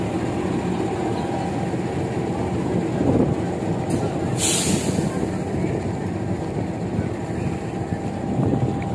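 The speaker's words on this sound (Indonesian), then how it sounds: "keretanya siap dipandu oleh petugas langsir" Pangrango passenger train being shunted by yard staff, giving a steady low rumble and rolling rail noise throughout, with a brief sharp screech or hiss midway.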